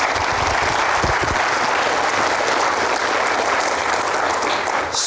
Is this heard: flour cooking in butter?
no